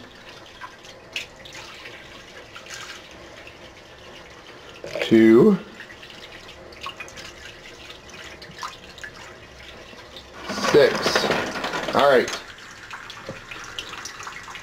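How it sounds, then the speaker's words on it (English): Tablespoons of water poured one at a time into a small packaging container, brief splashy pours with drips between them, close and clear, while a man counts aloud. "I'm going to put in 6 tablespoons of water to fill up as much of this container as I can."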